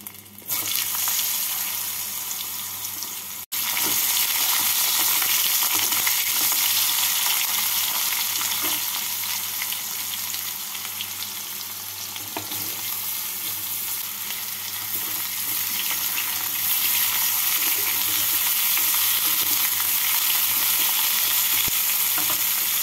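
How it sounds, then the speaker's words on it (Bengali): Potatoes and eggplant fry in hot oil with nigella seeds and green chilli for a Bengali fish curry, a steady close sizzle with occasional stirring scrapes and a brief clatter near the start. "আলু আর বেগুনগুলোকে এইভাবে লাল করে ভেজে নিলাম।"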